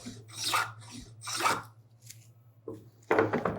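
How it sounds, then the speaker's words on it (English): Wooden hand plane cutting a wood joint, several rasping strokes in quick succession, each a brief scraping swipe separated by short pauses, close and fairly loud. "the plane is riding right against that, and I can start moving really fast and cut that joint down to whatever depth I want very quickly."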